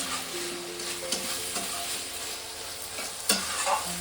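Beans and potato cooked in poppy seed masala are stirred in a pan, with repeated scraping strokes over a steady low sizzle and a sharper clank near the end, no voices.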